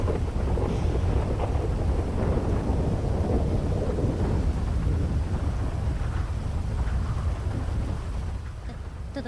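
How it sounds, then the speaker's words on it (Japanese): In the game FiveM, a thunderstorm pours steady, loud rain while deep thunder rumbles continuously underneath, easing slightly toward the end, with no voices. "雨音がすると雷の音がすごいから。"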